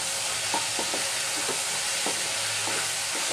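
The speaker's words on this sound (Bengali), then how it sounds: "শুকনা মরিচ ভাজা দিয়ে কলমি শাক ভাজি" A steady sizzling hiss of water spinach frying in a pan with dried chillies, broken by light scraping and stirring taps.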